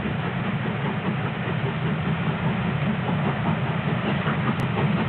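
A steam-hauled train rolls through Bridgewater in Somerset, giving a steady, dense rumble and rattle of carriages that holds at an even level throughout without talk.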